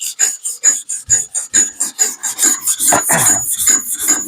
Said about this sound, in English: as you're sanding and looking at the color change, it's just fascinating